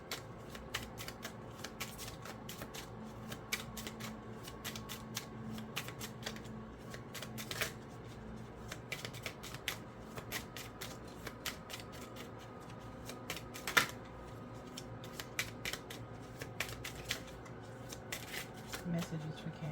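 Tarot cards are shuffled in quick, light riffling bursts and soft slaps, repeated across the stretch at a quiet, close level, with low hum behind them.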